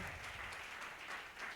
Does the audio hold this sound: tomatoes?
no